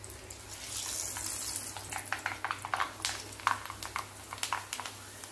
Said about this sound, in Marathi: तेल इथे छान गरम झालेलं आहे, त्याच्यामध्ये आपल्याला आता कुरडई तळून घ्यायचे.